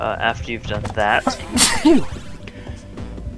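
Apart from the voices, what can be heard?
sneeze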